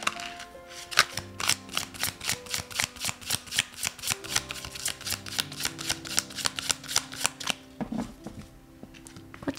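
Tarot cards shuffled by hand in a rapid, even run of crisp flutters and light slaps, close and clear, slowing near the end with a few softer riffles.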